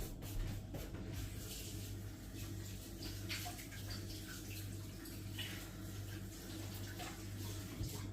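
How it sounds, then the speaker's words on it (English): Hands being washed under a running kitchen tap, a soft continuous stream of water with light splashes and drips, fairly quiet and steady throughout. "I'll wash my hands a second."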